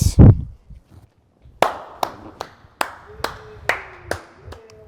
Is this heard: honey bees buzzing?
no